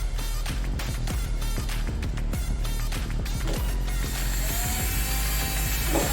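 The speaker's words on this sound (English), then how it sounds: "We're going to go ahead and put a test rivet in and see, what looks good here." Cheap hand rivet gun setting a standard freight rivet into a junk Little Tikes toy car: a rapid series of ratcheting clicks as the handle is squeezed repeatedly, close and loud over a constant low hum.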